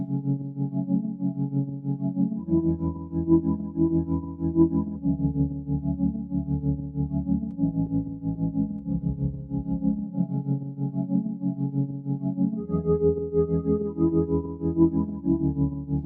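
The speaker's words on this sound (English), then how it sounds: "it's that tremolo signal I was telling you again" Amapiano chords built from a kalimba sample and run through a pulsing tremolo effect, sustained chord changes sounding alone with no voices.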